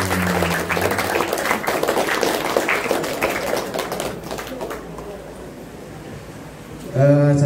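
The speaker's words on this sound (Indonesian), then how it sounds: "Berikan tepuk tangan yang meriah sekali lagi untuk" Audience applause following a school drama performance by a madrasah theatre group, broad clapping heard under a speaker's voice at a moderate level, fading out before music begins at the end.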